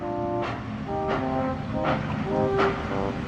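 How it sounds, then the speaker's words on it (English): A steam engine puffs slowly as a storytelling effect, with rhythmic chuffs about every three-quarters of a second over a steady rumble and a tonal hum, close and moderately loud, with no voice. "Duncan puffed slowly forward."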